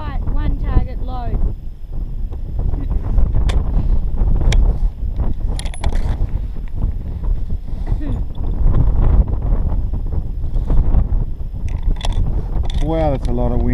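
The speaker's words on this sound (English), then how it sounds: "Wow, that's a lot of wind." Strong wind buffets the microphone at an outdoor shooting range, a continuous roaring rush with clanking mechanical sounds and voices talking over it.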